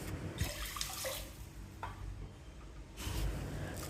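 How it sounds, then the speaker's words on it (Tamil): Water runs from a kitchen tap into a vessel to wash basmati rice, a soft, steady splashing stream that swells, eases off briefly and picks up again, quiet and close with no talking. "ஒரு தடவை மட்டும் கழுவிட்டு 4 கப்பு தண்ணி ஊற்றி குக்கரில் வேக விடணும்."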